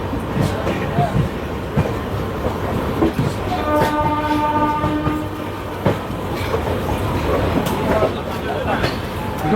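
The Ahmedabad Gorakhpur Express pulls out of New Delhi station with a steady rumble and wheel clatter, and a horn sounds briefly midway. Someone talks over the noise.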